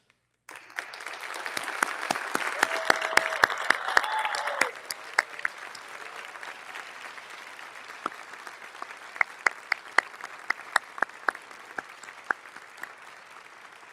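Audience applause for standing National Board Certified teachers at an educators' awards ceremony: a dense round of clapping that thins after a few seconds into scattered, sparse claps that trail off.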